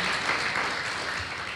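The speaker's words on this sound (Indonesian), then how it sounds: "Kita berikan tepuk tangan yang dahsyat bagi Tuhan." A church congregation breaks into applause, a dense, steady wash of many hands clapping together that carries evenly through the short stretch.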